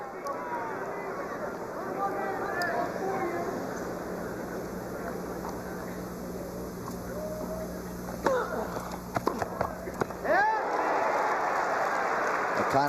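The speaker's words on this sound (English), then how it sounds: "the crowd is cheering McEnroe's fault" A packed Madison Square Garden crowd at the 1981 Volvo Masters tennis final reacts around a commentator's voice, with murmuring giving way to a burst of cheering and applause near the end.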